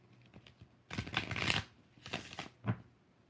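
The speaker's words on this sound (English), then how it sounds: "one more shuffle" Tarot cards being shuffled by hand during a live reading, a few quiet bursts of riffling and papery slaps, close and soft, with brief pauses between them.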